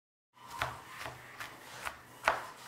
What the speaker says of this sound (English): There she is, chopping away.